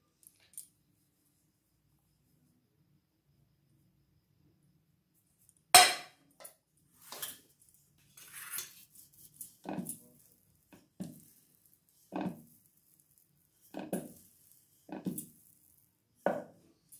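Paratha dough being rolled round with a rolling pin on a board, quiet for several seconds, then a sharp knock followed by a series of short thuds and rolling scrapes at irregular intervals, close and moderately loud.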